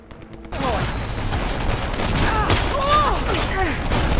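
Rapid shotgun blasts and mechanical clatter in the shooter game Dirty Bomb, dense and continuous after a quiet start, with sweeping effects layered through the gunfire.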